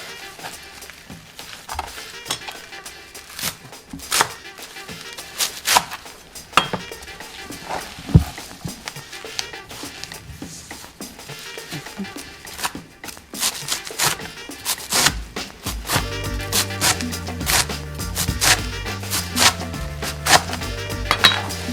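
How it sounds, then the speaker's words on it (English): A knife chops fresh herbs for Gormeh Sabzi stew on a board, making a steady run of close, sharp taps that grow denser toward the end, with faint kitchen clatter and no talking. "we are going to chop this together and then start"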